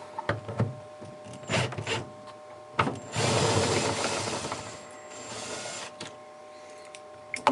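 A power driver backs two hex head screws out of a refrigerator door hinge, with short whirring bursts followed by a longer buzzing run and a few clicks of the tool and hardware, with no talking.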